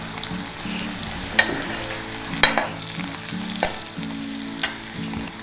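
Dried red chillies sizzle in hot tempering oil with asafoetida for a drumstick flower stir-fry, giving a steady, close frying hiss broken by sharper spatters and stirring clinks.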